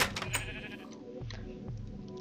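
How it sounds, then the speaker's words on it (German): Sheep bleating in the Minecraft video game, a few clear bleats close by over a busy, steady game background. "ein Schaf in den Stall schieben"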